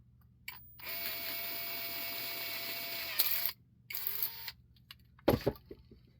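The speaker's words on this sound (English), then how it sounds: "But I have to drill out more." A power drill whines steadily for a few seconds drilling out a thin-walled 3D-printed lightsaber prop part, stops, then runs in shorter bursts with clicks and handling noise, close by.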